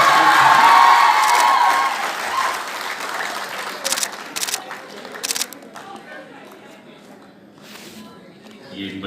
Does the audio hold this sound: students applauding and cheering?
yes